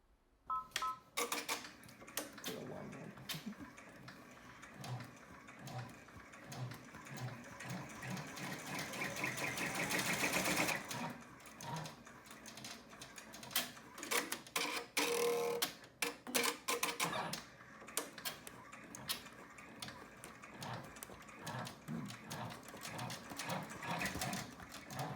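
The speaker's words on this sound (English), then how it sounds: "Next on the machine is step 2, and that will make a running stitch on both sides of the zipper to hold it in place." An embroidery sewing machine runs a running stitch along both sides of a zipper for a purse, whirring and rattling in quick bursts with brief pauses, fairly quiet and close.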